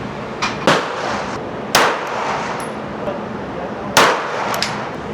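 Gunfire at an outdoor shooting range during zeroing and pistol work: three sharp, loud reports spaced a second or two apart, each with a brief ringing tail, plus a few fainter pops.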